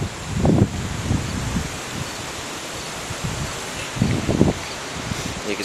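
Steady wind blows across an outdoor work site where a gin pole is being raised beside a Willys CJ6, a broad constant rush with a few low gusty buffets.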